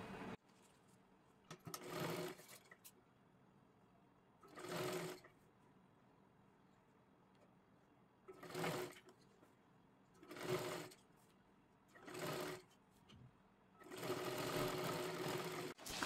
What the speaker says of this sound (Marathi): इथून शिलाई करायला सुरुवात करायची आहे